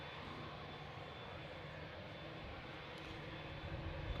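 A steady, distant roar of an airliner arriving at Manchester Airport holds evenly throughout, a broad rumbling wash with no distinct peaks, faint and far off, with no voices.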